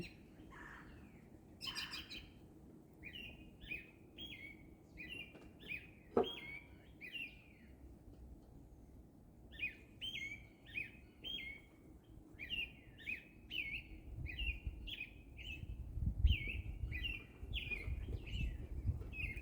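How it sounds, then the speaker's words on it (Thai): Birds sing repeated bright, whistled phrases, fairly close and clear, over a quiet background with a low rumble growing near the end. "นกนี่มีเสียงที่ไพเราะนะ"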